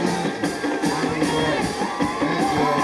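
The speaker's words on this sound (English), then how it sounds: "Great crowd here on senior night" A large crowd at a high school football stadium on senior night, Reidsville vs McMichael, roaring and cheering steadily with shouts and whoops rising and falling over a constant loud wash of voices.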